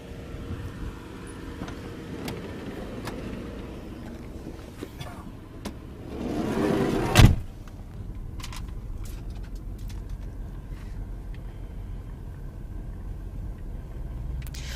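A car drives onto the Hong Kong–Zhuhai–Macau bridge, a steady low road rumble throughout with a louder whoosh swelling midway as something passes close, and faint chirps above.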